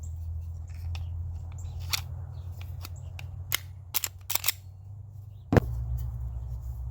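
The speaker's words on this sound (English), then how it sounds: "Alright, we're gonna reassemble here." Palmetto Dagger pistol being put back together: scattered crisp metallic clicks and snaps, one louder clack near the end, over a low steady background hum, no speech.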